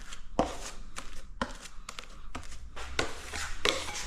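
Wall patching compound is mixed by hand with a tool in a container, giving a series of irregular scraping and slapping strokes, close and moderately loud.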